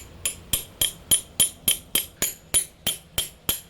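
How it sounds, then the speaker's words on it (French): A hammer taps a part on a crashed dirt bike's brake assembly, striking about a dozen sharp metallic blows in a steady, even rhythm, close and clear. "Je tape avec le marteau."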